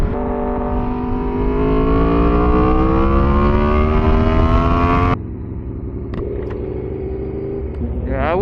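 A 2012 Aprilia RSV4 motorcycle engine while riding: loud, steady revving that climbs in pitch through the gears, then drops sharply to a lower rumbling cruise, close and constant.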